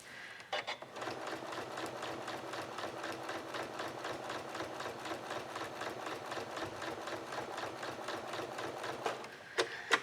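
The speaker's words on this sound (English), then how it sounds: "I'm just stitching along a line I've already stitched there to get to where I want to go." A sewing machine stitches a quilt, running steadily in a fast, even mechanical rattle for several seconds. It starts and stops with brief clicks, close up, and no one speaks.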